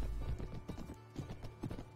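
A horse gallops in Mount & Blade Warband, the Brytenwalda mod, its hooves hitting in a quick, uneven clip-clop rhythm of repeated thuds, steady and fairly close.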